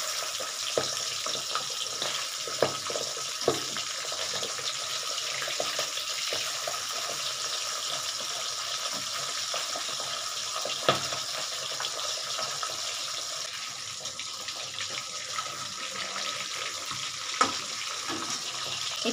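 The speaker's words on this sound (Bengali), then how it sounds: "এগুলো আমি আস্তে আস্তে ভাজতে থাকবো" Fresh pabda fish fry gently in oil in a pan over a low gas flame, giving a steady, even sizzling hiss with occasional small pops and clinks.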